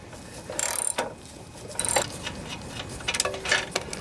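A ratchet works a bolt loose on the Honda side-shaft 179cc engine of a Homelite pressure washer, giving short bursts of clicking spread across the clip, close by and fairly quiet.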